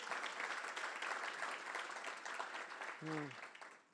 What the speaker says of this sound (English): Let's give a round of applause to Stacy Lynch.